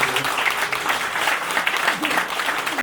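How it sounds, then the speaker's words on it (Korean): A room full of guests claps at a celebration for a newly inaugurated Korean minister of patriots and veterans affairs, a dense, lively applause close by and sustained throughout, with some voices mixed in. "박수 한번 부탁드립니다"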